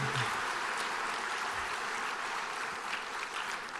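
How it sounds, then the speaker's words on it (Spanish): A church congregation at a Spanish-language service gives sustained applause, with dense clapping that runs steadily throughout at a moderate level and fades slightly toward the end. "Démosle un aplauso al Señor."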